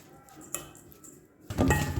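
Spoon scraping a pan as cashews and ghee are stirred into a black whole urad dal laddu mixture: a sharp clink near the start, then louder, denser scraping and clatter toward the end, close up with no voices.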